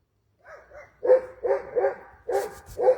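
A dog barks excitedly during a sermon, giving about six sharp, fairly close barks in quick uneven bursts after a moment of silence, with no voices over them.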